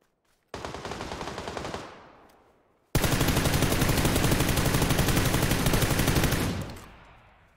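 Rapid automatic gunfire in PUBG comes in two loud sustained bursts, a short one followed by a longer stream of shots, each trailing off with a fading echo.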